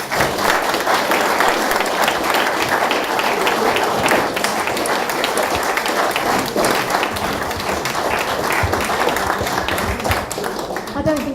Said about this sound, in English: I don't think they'll ever stop clapping because that was fantastic, wasn't it?